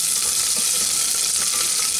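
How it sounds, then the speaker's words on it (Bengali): Chopped onion frying in hot oil for toor dal, a steady, bright sizzle that continues without pause and without any talk. "পেঁয়াজটাকে হালকা বাদামি করে ভেজে নিচ্ছি।"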